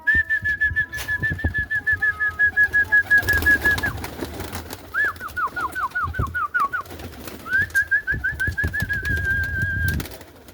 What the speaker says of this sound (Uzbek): Mana qushlarimiz.